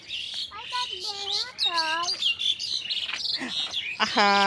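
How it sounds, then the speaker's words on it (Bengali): Bright, high chirps and trilling calls from several birds close by, quick and overlapping, with bits of quiet human voice mixed in. "পাখির ডাকটা খুবই ভালো লাগে"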